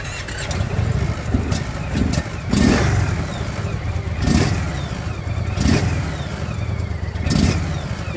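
Close, loud engine of a 2017 Harley-Davidson Street Glide with a Milwaukee-Eight motor or an Indian Roadmaster motorcycle, idling with a steady rumble while the throttle is blipped repeatedly into short revs.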